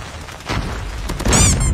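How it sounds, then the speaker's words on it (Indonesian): A car explodes in a shooting video game, giving a couple of booming blasts in quick succession with a bright crackling burst at the end, loud and close. "Wah, mobilnya meledak gak tuh"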